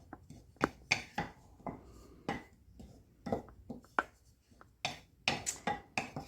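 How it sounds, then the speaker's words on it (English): Dry ingredients for buckeye cookies being stirred together in a bowl, giving a run of sharp, irregular scraping and clinking knocks, close and fairly quiet, with no talking. "So mix up these dry ingredients here together."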